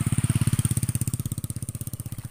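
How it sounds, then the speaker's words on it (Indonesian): A motorcycle passes close by on a village road, its engine putting out a steady, rapid low pulsing that stays loud and gradually eases as it moves on, with no talk over it. "Ada motor lewat, Bel."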